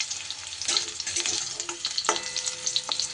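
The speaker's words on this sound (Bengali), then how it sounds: "একটু কয়েক সেকেন্ড এইভাবে আলুটা নেড়ে নেবার পর" Potatoes are stirred and fried in a pan, giving a steady close sizzle with repeated scraping strokes of the spatula and no talking.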